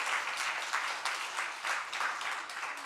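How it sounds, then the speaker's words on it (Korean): A church congregation applauds in welcome, a dense, steady wash of many hands clapping together with small swells in loudness, no talk over it. "한번 우리 박수로 환영을 하겠습니다."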